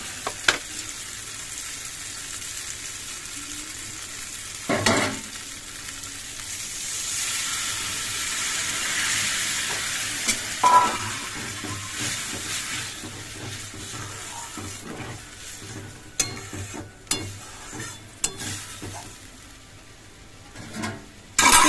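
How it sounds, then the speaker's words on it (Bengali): Fish malai curry gravy with coconut milk simmers and bubbles in a pan, a soft steady hiss with occasional clinks and knocks of a utensil or lid. "ঝোলটা ফুটে উঠেছে"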